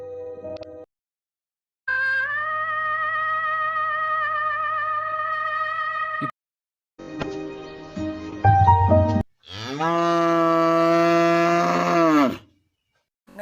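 A cow lows several times at close range, long loud drawn-out moos broken by short silences, the last one deep and stretched, with a brief rougher snort-like sound between calls and no speech.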